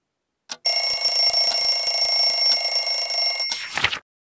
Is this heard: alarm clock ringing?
yes